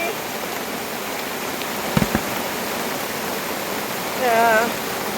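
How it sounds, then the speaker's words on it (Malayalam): Heavy rain pours in a steady, dense hiss across a coconut-gathering spot, loud and unbroken, with a couple of brief knocks and a short voice rising over it near the end. "മഴയുടെ കാഠിന്യം കാണുക"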